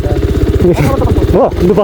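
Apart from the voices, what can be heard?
new motorcycle starting off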